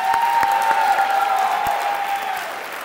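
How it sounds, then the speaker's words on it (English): An audience at a drum major speech event claps in a steady wash of applause that fades slightly toward the end, with a faint sustained tone and a few sharp knocks heard underneath. "Can we please just clap for Joe?"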